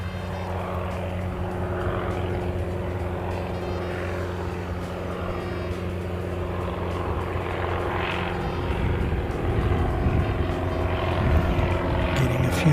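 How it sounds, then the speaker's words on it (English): Light propeller aircraft from an Aero Club take off overhead, a steady droning engine hum that grows slightly louder toward the end, heard continuously outdoors at an airport spotting spot. "Getting a few of the Aero Club aircraft taking off over the top of us now."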